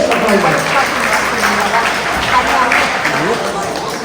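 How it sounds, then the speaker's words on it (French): A ceremony audience applauds a technician at an event handing out youth cards in Basse-Terre, steady clapping filling the room while voices talk over it throughout. "applaudissez monsieur"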